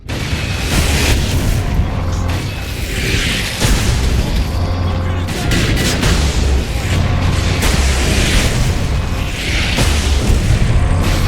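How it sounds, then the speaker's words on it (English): Rocket launcher explosions from the Warhammer 40K Space Marine video game: loud, repeated booms and blasts over a constant roar of battle, with a few heavier bursts rising out of dense, continuous noise. "Rocket launchers on the high ground."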